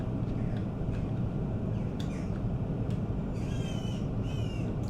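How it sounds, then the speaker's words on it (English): A crow caws several times in the background, short harsh calls spaced irregularly over a steady broadband rush of noise, faint but distinct. "I don't know if anyone can hear the bird in the background"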